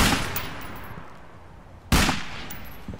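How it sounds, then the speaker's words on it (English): Two loud gunshots from the video game Velvet Assassin, one at the start and another about two seconds later, each a sharp crack with a booming tail ringing out into quieter game ambience. "See, if you rush the shots, you miss."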